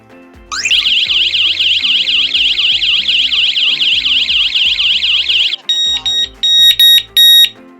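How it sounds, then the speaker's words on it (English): An OSI strobe siren wired to an alarm panel wails loudly and steadily for about five seconds while the SOS button is held, then cuts to a few short, sharp electronic beeps. "To test the siren, let's hold down the SOS button for a few seconds."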